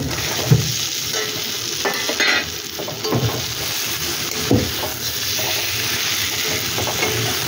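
Fried eggs go into a hot pan for Bengali egg kosha, bringing a steady loud sizzle with stirring scrapes and occasional utensil knocks against the pan.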